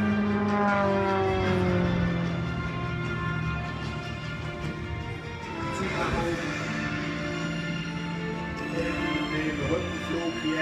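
An aerobatic airplane performs a display at the Königsdorf airfield air show, its engine droning steadily with rising and falling pitch as it gathers speed and rolls, distant but continuous throughout.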